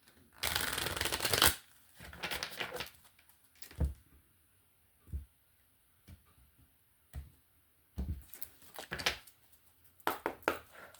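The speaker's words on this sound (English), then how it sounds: "One more shuffle for Leo" Tarot cards are shuffled by hand close up, with a long riffling burst at the start followed by several short, separate flicks and taps of the deck.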